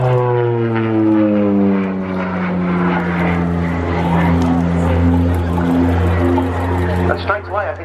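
A propeller aircraft flies a display at the RAF Cosford Air Show, its loud droning engine tone steady and rising and falling in pitch as it passes, with a commentator's voice running over it.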